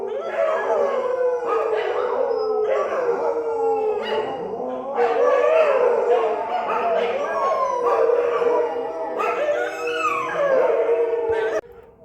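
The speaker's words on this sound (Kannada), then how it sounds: "ಪಾಪ ಇಲ್ಲಿ ಮುಸ್ಲಿಮ್ಸು ನಮಾಜ್ ಮಾಡ್ತಾಯಿದ್ರೆ ನಾಯಿಗಳು ಅವ್ರ ಜೊತೆ ಇವು ಸೌಂಡ್ ಮಾಡ್ತಾವೆ" Dogs howl along with a Muslim call to prayer, their long, wavering, drawn-out cries rising and falling together for several seconds, loud and close.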